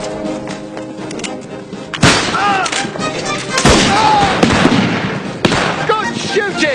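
Musket volleys in a Napoleonic-era battle, with sharp shots cracking out around two, four and five and a half seconds over a dense din of combat and shouting voices.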